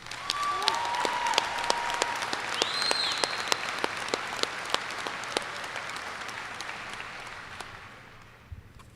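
Audience applause for silver honor roll students at a school district event, a steady wash of clapping from a large crowd with a few louder nearby claps, tapering off toward the end.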